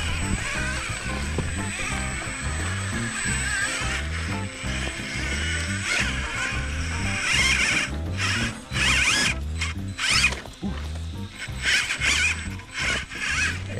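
An RC4WD Miller Motorsports Pro Rock Racer RC car drives uphill in second gear, its electric motor and gears whirring in a pulsing mechanical rhythm with rattling clatter over rough ground.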